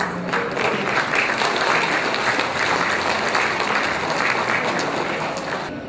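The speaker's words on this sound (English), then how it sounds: "So give yourselves a round of applause." A large crowd claps at a Christmas gala, sustained dense applause at even loudness throughout, only easing slightly at the end.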